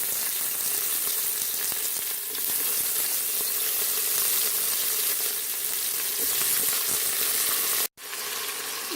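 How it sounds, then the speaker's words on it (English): Tomatoes and potatoes sizzle and fry steadily in an Instant Pot during the making of a goat curry. The hiss is close and continuous, with a brief dropout near the end. "While the tomatoes and the potatoes are still cooking, I will give it a little stir and cover it with the lid"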